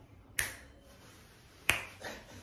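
Two crisp, close finger snaps about a second and a half apart, each a sharp isolated click against a quiet background, with a faint softer echo after the second.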